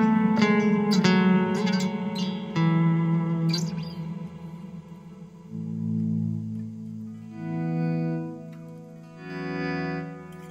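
An electric guitar played through a Blackstar ID Core V3 amp cycles through its reverb settings, including hall, spring and plate: plucked notes and chords ring out with long, shimmering decaying tails, loud and up close, with no talking.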